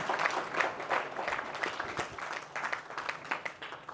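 An audience applauds at a Hindi lecture on the Gita, a steady wash of many hands clapping throughout, moderately close, with no talk over it.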